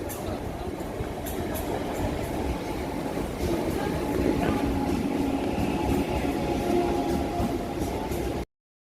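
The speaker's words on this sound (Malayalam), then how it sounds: "ഇതാണ് ഇവിടുത്തെ ലോക്കൽ ട്രെയിൻ" Steady low rumble and rattling of a Chennai local commuter train in motion, heard from inside, with faint rhythmic clatter and no talking.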